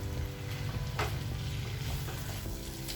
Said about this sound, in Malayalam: അതിലേക്ക് ഉള്ളി, പച്ചമുളക്, ഇഞ്ചി ഇട്ടൊന്ന് ചെറുതായിട്ട് വഴറ്റിയെടുക്കണം.